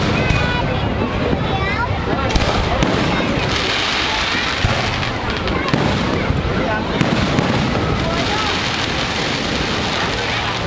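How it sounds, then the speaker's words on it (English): Fireworks burst repeatedly over Kata Beach in Phuket, a dense run of loud crackling pops and booms that continues throughout, with crowd chatter mixed in beneath. "Put some fireworks on for us."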